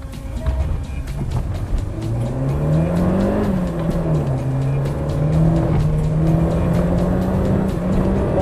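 A Peugeot 106 Rallye 1.3, a light 100 hp hatchback, pulls hard under acceleration from inside the car, its engine note climbing loudly and steadily through the revs, briefly easing, then climbing again, with no talk over it.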